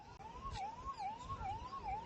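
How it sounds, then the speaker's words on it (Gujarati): A faint ambulance siren wails up and down in a steady repeating cycle, heard at a distance over low traffic rumble, near a collapsed Mahisagar river bridge in Vadodara, Gujarat. "અહીંયા એમ્બ્યુલન્સના હોર્ન આપ સાંભળી શકો છો વારંવાર"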